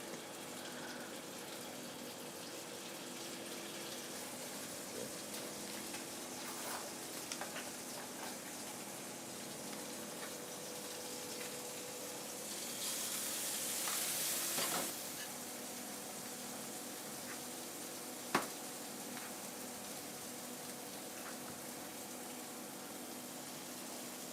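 Tomatoes, olives and fresh cracked garlic sizzling in a pan in a kitchen in Umbria, Italy, a soft steady crackling hiss throughout with a brief louder gush partway and a single sharp click later.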